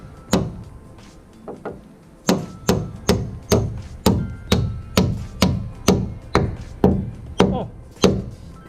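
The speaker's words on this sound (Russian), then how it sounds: "Гвоздь вот так вот. Первый раз молотком работаю." A hammer driving nails into wooden roof rafters, a long run of sharp, loud, evenly spaced blows, close by, with a few lighter taps early on and brief talk in between.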